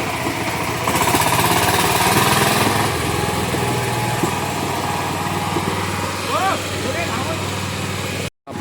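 A tractor engine runs at a steady drone near a rice field in the Konkan during paddy planting, loud and close throughout, with people talking faintly over it.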